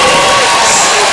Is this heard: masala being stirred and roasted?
no